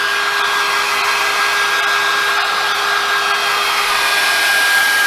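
A Revlon hair dryer brush blowing steadily at close range, a loud, even whooshing airflow with a high motor whine running throughout, no talking.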